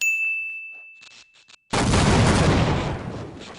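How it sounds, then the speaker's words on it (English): A high metallic ringing tone with a few faint clicks, cut off by a sudden loud video game explosion that roars and slowly fades. "You guys were way too close to that explosion."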